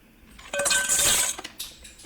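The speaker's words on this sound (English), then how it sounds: "Look what happens when we stir fry them in our regular aluminum compared to super hard black alumite." Sharp clamshells clatter and clink as they are stir-fried in a regular aluminum pan, a bright metallic scraping burst of several rattling hits that swells, then trails off into a few scattered taps.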